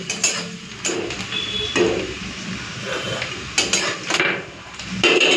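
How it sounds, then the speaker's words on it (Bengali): Onions frying in a pan are stirred with a metal utensil, producing repeated loud clanks and scrapes against the pan at an uneven rhythm over a soft background sizzle. "পেঁয়াজটাকে একটু লাল করে ভেজে নিই"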